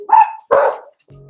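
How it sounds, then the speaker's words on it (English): Dogs give two loud, close barks in quick succession, followed by a short low whine. "my dogs, man, when they hear the family coming in, boy, they go crazy"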